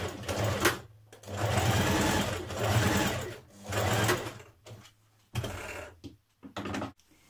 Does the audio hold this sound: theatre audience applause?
no